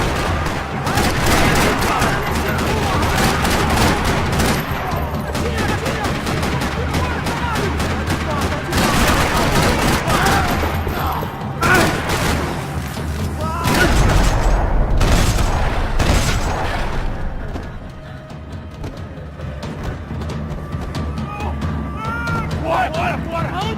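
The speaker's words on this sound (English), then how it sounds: "Another parking lot rattling with gunfire." Dense, continuous bursts of gunfire and explosive booms from a Max Payne 3 battle in a parking lot, loud and sustained, easing slightly toward the end.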